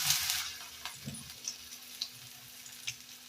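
An oats and potato snack lowered into hot oil sets off a short burst of sizzling, then fades to faint, scattered crackles and pops.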